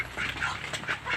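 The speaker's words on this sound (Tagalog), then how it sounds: "Mga bibe." Several farm ducks quack in repeated nasal bursts, close and fairly loud, with no voices.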